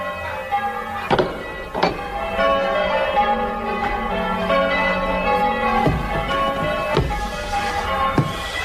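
Church bells ringing in a belfry, heard from inside the tower in a radio drama: several heavy clangs strike at irregular intervals, each leaving a long resonant hum.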